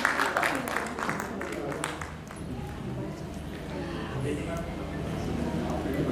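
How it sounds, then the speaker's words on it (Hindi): Loud applause from an audience at a Women's Day honour ceremony greets a women's group called back onto the stage. Dense, crowded clapping is strongest at the start and then thins into a softer, steady crowd murmur. "तो एक बार जोरदार तालियां महिला शक्ति दल के लिए।"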